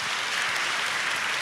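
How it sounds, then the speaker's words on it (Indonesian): Dense, steady applause fills a church gathering as a congregation claps for a community group, a continuous wash of many hands with no gaps. "tepuk tangan untuk komunitas TJIM"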